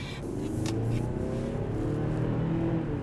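A turbocharged 2026 Hyundai Santa Cruz engine drones steadily and rises in pitch under full-throttle acceleration, heard from inside at a constant moderate level.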